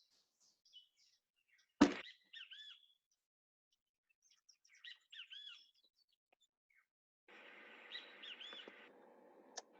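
A great kiskadee in Costa Rica calls in short, bright chirping phrases, repeated a few times with gaps, set against a quiet background and a faint hiss of ambient noise later on, with no talk.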